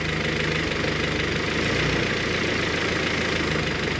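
A Honda H22 engine idling cold, a steady close, continuous mechanical run with a fine rapid ticking from the cylinder head sitting inside the low engine drone throughout.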